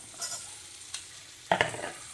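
Onions with mustard seeds and curry leaves frying in a pan for a kunduli dish, a faint sizzle punctuated by a few stirring scrapes, the loudest burst near the end, close and without talk.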